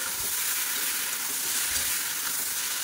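Food frying with salt and turmeric in a pan, an even, fairly loud sizzle that holds steady from start to finish without talk.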